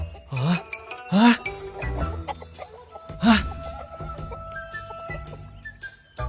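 Chicken clucking in short squawky bursts, mixed with a brief exclamation from a voice and some light clinking.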